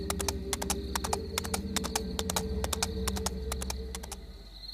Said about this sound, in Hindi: चांदनी रात में घोड़े की सवारी करके लौट रहे थे।